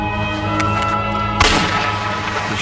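A single loud gunshot in a movie scene, a sharp boom partway through that decays into a rumbling tail over a tense musical background.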